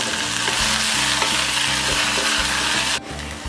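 Gongura sorrel leaves going into hot oil with garlic, a loud dense sizzle with rhythmic stirring scrapes that drops off abruptly near the end, close and without talk.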